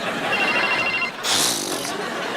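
A telephone rings, a short electronic ring burst in the middle of a Hindi family conversation, with voices talking around it.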